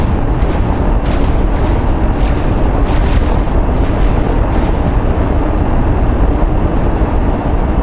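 Rumbling, booming explosions from a precision strike on ship engines in the space game X4 Foundations, a dense roar with repeated blasts for the first five seconds that then settles into a sustained low rumble.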